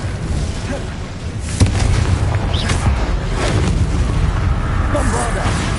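A Confringo explosion spell in Hogwarts Legacy on PS5 going off as a dull boom in the midst of ongoing combat noise and spell effects, with a voice shouting over the steady din.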